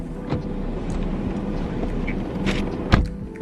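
Steady interior road rumble of a car on a 20-minute drive to the mall, a constant low drone with faint bumps and no talk.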